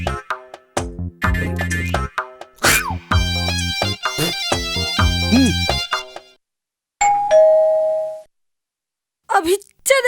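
Doorbell in a comedy film scene chimes with a sustained ringing tone lasting about a second, following stretches of busy speech and other sounds, with a few brief sounds after it.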